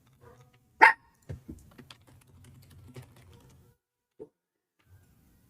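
A dog gives one sharp, close bark, followed by a few softer thumps and clicks over a faint steady hum, then quiet with a small click later.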